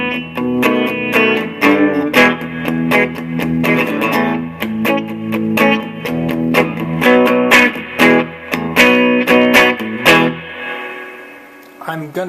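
Electric guitar played through an amplifier with reverb switched on and a bright treble, strummed chords and picked notes ringing continuously and fairly loud, with no talking over it.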